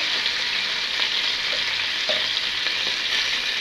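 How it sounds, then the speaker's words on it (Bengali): Chicken frying with ginger, garlic and onion, a loud, continuous sizzle close by with occasional scraping stirs and no talking. "আদা রসুন পেঁয়াজ ভালোভাবে আমি ভেজে নিয়েছি। এর মধ্যে এবার দিয়ে দেবো আমি চিকেনটা।"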